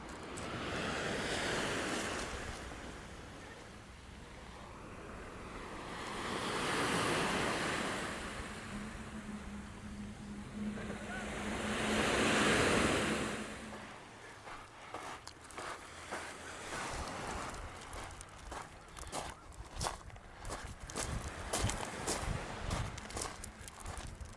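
Atlantic Ocean waves break on a small rocky beach, swelling and receding in slow surges of wash with wind noise, then crunching footsteps on stones toward the end.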